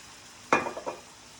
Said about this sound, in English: We're going to add a little bit of wine.